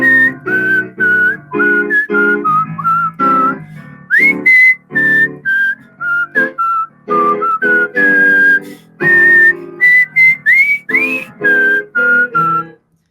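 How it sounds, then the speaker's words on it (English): Someone whistles a solo melody alone, clear and close, in a run of short and sustained pitched notes with small slides and brief gaps between phrases. "let's say there's a soloist, which I will whistle."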